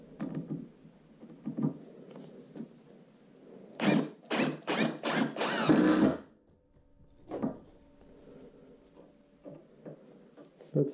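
A Milwaukee M18 compact brushless 1/4-inch impact driver drives a screw in a rapid, loud run of hammering impact bursts lasting about two seconds, framed by quieter clicks and handling noises.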